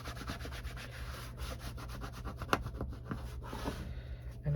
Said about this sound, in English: I'm going to take a wipey and wipe just in case I got glue